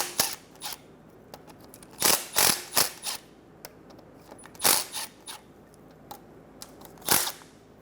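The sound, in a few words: loosening 10mm oil pan bolts on a 2007-2012 Nissan Altima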